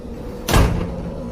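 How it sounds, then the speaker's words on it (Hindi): A heavy door slamming shut in a sudden gust of wind at an old fort, a single loud dull thud with a brief rumbling tail over steady background noise. "अचानक एक तेज हवा का झोंका आया और दरवाजे अपने आप बंद हो गए"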